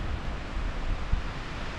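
Wind rushes across a mountain trail on the Appalachian Trail near Pinkham Notch, a steady roaring gust with low buffeting against the microphone.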